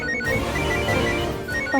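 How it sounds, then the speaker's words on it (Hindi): A phone ringtone plays a short melodic tone pattern, clear and fairly loud, lasting under two seconds with no talk. "रोज कह रही हो, फोन उठाओ।"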